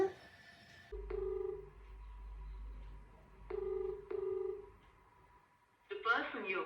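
A phone call rings out unanswered: repeated electronic ringback tones come in regular bursts over a low hum, ending with a short burst of voice.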